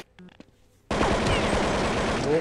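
Gunfire on the Dust2 map in Counter-Strike 1.6 bursts in suddenly after a few faint clicks, then runs as a loud, rapid automatic stream to the end.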